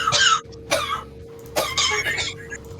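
Several short bursts of coughing and throat clearing from nearby players at a tabletop roleplaying session, separated by quieter gaps, with a low steady hum beneath.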